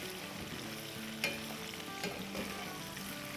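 Mutton boti for Bakra Eid frying in a pan with a dense, constant sizzle up close and a few brief scraping stirs.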